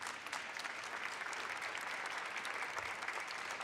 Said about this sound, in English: Clap it up for the Dream Keepers Initiative.